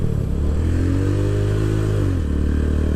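A motorcycle engine on a beach-area training ride rises in pitch, drops as the rider rolls off the throttle and shifts up to third gear, then settles into a steady, loud drone.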